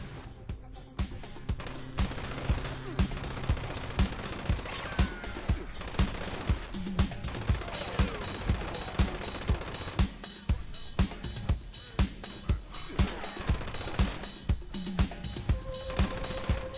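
Rapid sustained fire from The Red Terror gun in Fallout 76, a long relentless stream of loud shots with steady periodic heavy thumps, explosions and game effects layered throughout.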